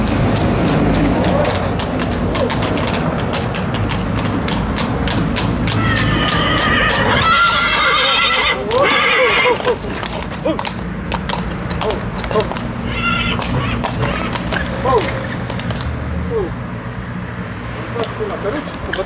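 In a rural yard near Sibiu, a stallion whinnies while hooves clip-clop in a busy, loud outdoor scene, with people talking over it throughout.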